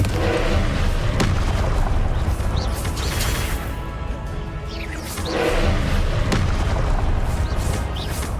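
Repeated booming blasts from the Confringo fire spell in Hogwarts Legacy, loud and close, with heavy thuds and crackling bursts over a continuous roar of combat.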